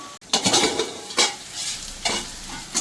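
Spice paste being stir-fried in a pan sizzles steadily, and a utensil scrapes and stirs through it in a few distinct strokes, close and clear with no talking.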